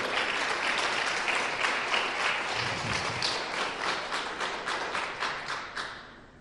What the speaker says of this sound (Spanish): Démosle un fuertísimo aplauso al Rey de Reyes